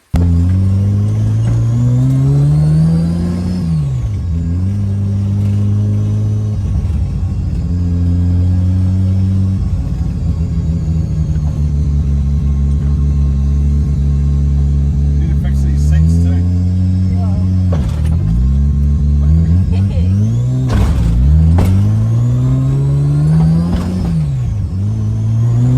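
A Mazda 323 with a 13B turbo rotary engine drives along, its rumbling engine rising and falling in pitch through repeated accelerations and gear changes, with a steady drone during cruising stretches.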